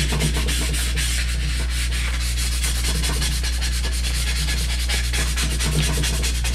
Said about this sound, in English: get your application tool,